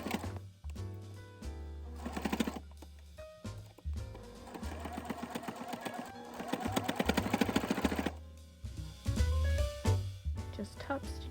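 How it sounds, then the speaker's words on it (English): A sewing machine top-stitches a seam on a dress made from a thrifted flat sheet, running in bursts that start and stop, with background music playing alongside. "So I'm sewing it right there."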